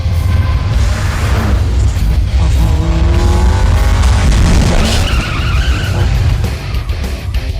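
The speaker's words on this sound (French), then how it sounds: "Une voiture arrive derrière." A car races up from behind on a mountain road with a loud, sustained engine roar and screeching, skidding tires. It fills the whole stretch, with the pitch rising and falling as it closes in.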